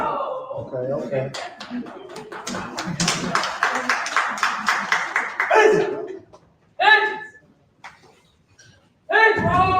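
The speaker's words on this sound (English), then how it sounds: "Clap it up for him." A small group claps in a quick rhythmic burst for a child named Jalen, with laughter and chatter mixed in, then a few separate voices speak in short bursts after the clapping fades.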